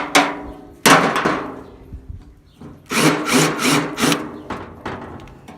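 Spot weld cutter working the tailgate of a 1966 Chevy C10: sharp grinding bursts and metallic pops in several short bouts, with rattling between cuts, close and loud.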